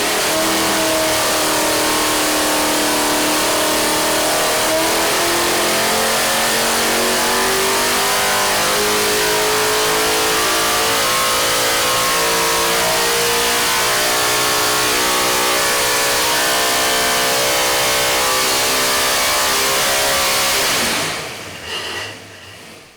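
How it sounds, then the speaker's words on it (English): An affordable V8 race engine from a USMTS modified car pulls hard to very high RPM, a loud, dense, rising howl that runs steadily for about twenty seconds before cutting off abruptly. "listen to a V8 that an average guy can afford to purchase and race make a pull to these stratospheric levels"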